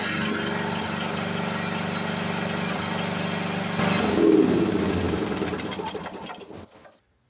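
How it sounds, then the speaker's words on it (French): A small single-cylinder engine on an AYP ride-on lawn tractor runs with a high idle, then revs up into a louder, rougher roar before trailing off and cutting out near the end. "c'est un moteur qui fonctionne plutôt bien. Le ralenti est un peu haut."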